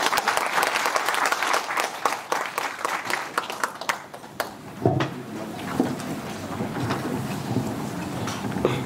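Audience at a medical forum in Suncheon bursts into dense, sustained clapping, loud and close, with the texture shifting midway as the applause continues to the end.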